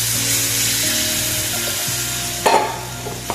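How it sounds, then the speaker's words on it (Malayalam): Tamarind water poured into a hot pan of browned onions for a Kerala sardine (mathi) curry, giving a loud, steady sizzle with a sudden burst of spattering near the end; no voices. "അപ്പോഴേക്ക് നമുക്ക് പുളിവെള്ളം ഒഴിച്ച് കൊടുക്കാം"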